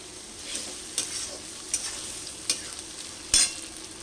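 Ground Kashmiri chilli, coriander and cumin powders frying in a pan for a Bengali chicken dish, with soft steady sizzle under scattered scraping stirs and a few sharper clinks of a spoon against the metal.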